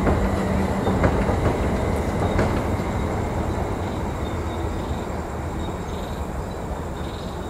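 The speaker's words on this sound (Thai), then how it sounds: "มาชมรถไฟฟ้าแอร์พอร์ตเดลิงบ้างนะฮะออกจากสถานีบ้านทับช้าง" An Airport Rail Link electric train leaving Ban Thap Chang station at dusk, rolling past with a steady, loud rumble and rail noise, faint high squeals of wheels on track in the background.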